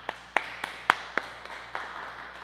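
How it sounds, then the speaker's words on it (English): Scattered, sparse hand claps from a small audience at a lung health support group welcome a doctor; about seven distinct, fairly faint claps with uneven gaps, over a quiet room hum. "let's give a warm round of applause for Dr."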